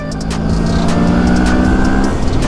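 A Mori motorcycle engine revs hard on a test ride, a steady loud droning roar with rising tonal whine, close and continuous throughout without any talk.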